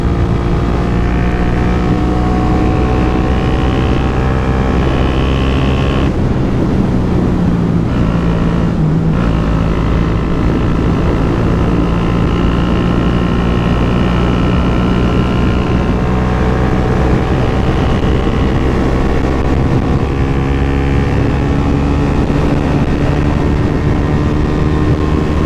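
A Suzuki GSX 125 S motorcycle climbing uphill, its small single-cylinder engine droning loud and steady at high revs with a brief dip in pitch partway, heard close with wind rush and no talk.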